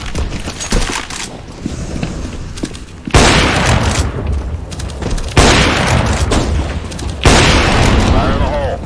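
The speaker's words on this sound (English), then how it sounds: "Deploying flashbang" In the battle royale shooter PUBG, loud grenade blasts go off in succession, each a sudden heavy burst followed by a sustained roar. Some talk sits underneath.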